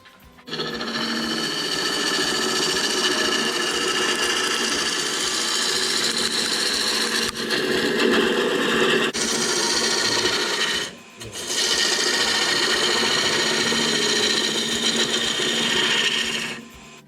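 A wooden sphere spins on a lathe as its sides are turned, giving a loud, continuous rasping whir of the cutting tool on wood, close up, broken by a brief dip and a short pause before resuming steadily.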